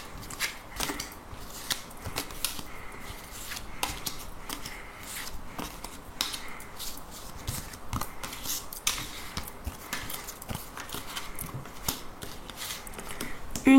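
A deck of cards is shuffled by hand for a card reading, giving soft repeated riffling and flicking bursts in a quiet room, close and fairly faint.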